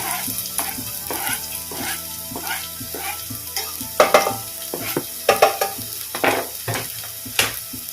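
Garlic and onion sauté in a hot pan for a Korean chilli garlic potato dish, with a steady sizzle broken by repeated scraping and stirring strokes that grow louder and sharper toward the middle and end.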